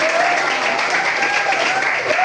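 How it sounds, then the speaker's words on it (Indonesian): Steady applause from a room full of people, dense and continuous clapping at close range throughout, with a faint tone running underneath. "Tepuk tangan."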